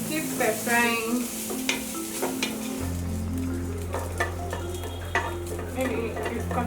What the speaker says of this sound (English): We keep stir frying.